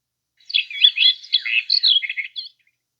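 A single bird sings a quick, high, twittering phrase of chirps lasting about two seconds, clear and isolated against silence.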